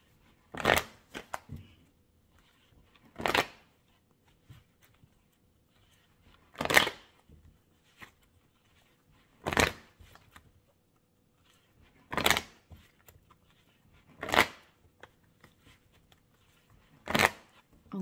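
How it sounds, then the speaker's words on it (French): Oracle cards being shuffled during a love-themed tarot-style reading, in seven separate short bursts of riffling spaced a few seconds apart, crisp and close with near silence between. "je tire là aussi 5 cartes pour vous"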